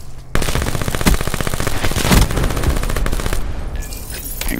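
Automatic gunfire in the video game Call of Duty: Black Ops 4, a loud, rapid stream of shots lasting over four seconds with a few heavier bursts mixed in.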